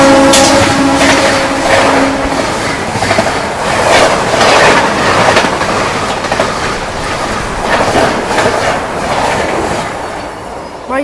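Double-decker express train 12932 to Ahmedabad overtaking on Indian rails, a loud close run of rhythmic clickety-clack wheel beats and rushing noise from the coaches, with a brief horn-like tone at the start.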